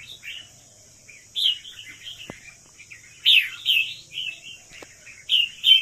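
A caged pet songbird kept alone sings in short bright bursts of chirps and tweets, several separate phrases with pauses between, close and clear over a faint steady background hum.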